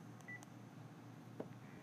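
Keypad dialing tones from a Panasonic KX-TGM450S cordless phone, a few short faint beeps spaced apart over a low steady background hum.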